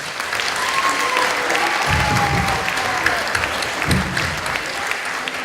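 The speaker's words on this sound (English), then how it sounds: "can I have a round of applause for that?" Steady, loud applause from a crowd at a charity fundraising show in a public hall cinema, sustained clapping for several seconds with cheers and voices mixed in.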